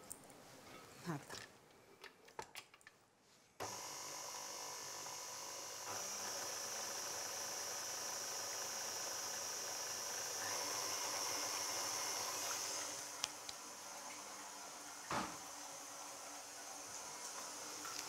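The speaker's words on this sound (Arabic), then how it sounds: "راح نديرهم هنايا في الخلاط، وراح نضيف لهم فانيليا" A kitchen blender whirring steadily for mini cake batter with vanilla, starting abruptly after a few seconds of clatter and running as a loud continuous hum with a brief bump near the end, no talk over it.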